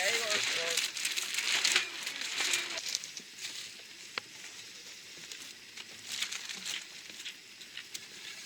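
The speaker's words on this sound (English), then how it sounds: "Starting to rain." Rain patters steadily on nearby surfaces at a fireworks setup in Norfolk, Connecticut, with a soft crackling texture, heavier at first and then easing, faint murmurs in the background.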